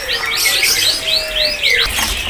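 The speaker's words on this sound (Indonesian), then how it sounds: "Tentunya udah mulai bunyi dari burung pelanduk semaknya teman-teman." Abbott's babbler (pelanduk semak) calling at a bird market kiosk, a run of bright whistled chirps and phrases over a steady background din, near and fairly loud.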